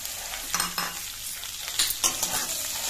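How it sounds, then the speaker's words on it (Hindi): Onions frying in a pan with garlic and bay leaf, a steady close sizzle broken by scraping stirring strokes and light utensil knocks against the pan. "प्याज को फ्राए कर ना"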